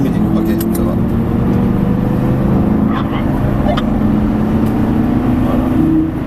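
A Lamborghini Gallardo accelerates on a race circuit during a driving course, its engine droning steadily from inside the car with a few faint clicks and knocks along the way.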